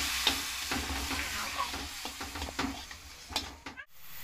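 Chilli and turmeric powder masala being fried with a splash of water over a medium flame for Bengali egg curry, close sizzling under repeated spatula scrapes and stirs, ending in a brief clatter and sudden quiet.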